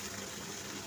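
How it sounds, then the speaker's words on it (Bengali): Water from a rinsed spice bowl pours into a pan, a brief, steady gushing splash heard close and alone. "এই মশলার বাটিটা ধুয়ে একটু জল দিয়ে দেবো"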